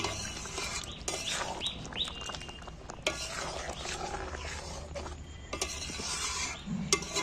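A spoon stirring crushed kasuri methi through chicken curry in a pan, with irregular scraping clacks over a soft sizzle and bright chirpy background noise, close and moderately loud.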